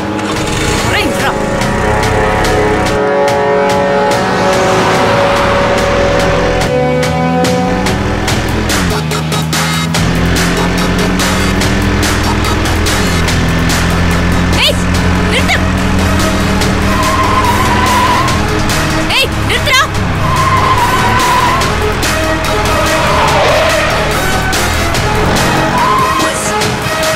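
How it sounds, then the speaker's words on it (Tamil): A car brakes suddenly with skidding tires under a loud, dense musical score in a Tamil TV serial scene, with sliding engine-like tones and voices mixed throughout. "எதுக்காக இப்படி சடனா பிரேக் போடுற?"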